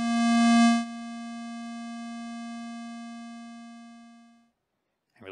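A synthesized note on a Playdate handheld holds a clear, pure, buzzy tone with bright overtones for about four seconds, then fades out smoothly, followed by brief silence and a faint click.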